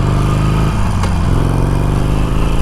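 A Harley-Davidson Sportster Iron rumbles steadily while being ridden, its loud, close engine note thumping with a low, even throb and a slight shift in pitch partway through.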